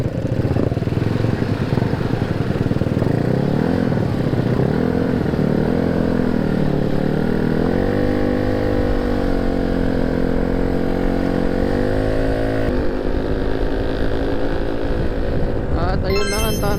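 Mio motorcycle with a 192cc engine on a break-in ride, droning loudly and continuously up close, revs rising and falling as it cruises, with brief talk over the engine.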